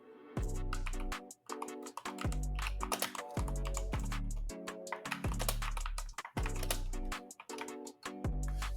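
Steady, rapid keystrokes rattle on a computer keyboard while code is typed, close and fairly quiet, in continuous bursts with brief pauses and no speech.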